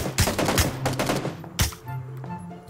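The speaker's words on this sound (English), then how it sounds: "I put some suppressing shots into him." Rapid bursts of gunfire during a four-player PUBG battle royale match, several sharp shots and short volleys in quick succession, loud and close, with one heavy report near the middle followed by quieter trailing noise.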